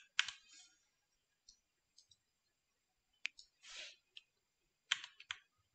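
Mouse clicks from editing in DaVinci Resolve, sparse and crisp, in short clusters and single taps separated by quiet gaps, close and fairly soft.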